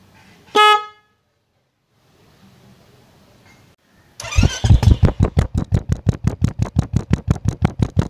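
A brief loud horn blast from a black Royal Enfield Bullet 350 motorcycle, followed by quiet and then the engine starting and settling into a steady, rapid thumping idle close by.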